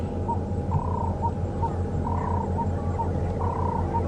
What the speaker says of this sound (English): Andrew reckons it was a ring-necked dove going croak, croak, croak, croak, croak, croak.